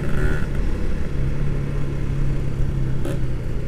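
A Ninja R motorcycle engine revs in a loud, rough, continuous roar with a low droning note, heard close by, most likely recorded while riding.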